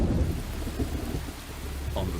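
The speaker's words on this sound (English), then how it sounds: "a typhoon strikes Luzon. The heavy rains mix with the ash." A typhoon strikes Luzon during a volcanic eruption, with heavy rain falling amid ash: a steady roar of downpour under deep, rolling thunder rumbles, loud and continuous for a couple of seconds, with no voices.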